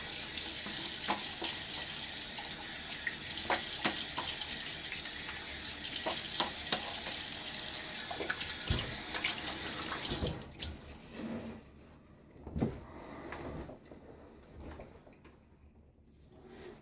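Tap water runs steadily for about ten seconds while rinsing during a shave, with scattered clinks and splashes, then cuts off, leaving quieter drips and handling noises.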